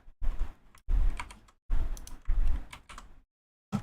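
Steady typing on a computer keyboard while coding a Chrome extension, dense bursts of clattering keystrokes, close and clear, pausing briefly between runs, with no speech.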